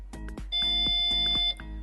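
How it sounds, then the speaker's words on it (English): A Tesla Model S P85D power trunk gives one steady electronic beep, lasting about a second, as its button is held to save the opening height. The beep is clear and close over a low background hum. "press and hold the button until it beeps"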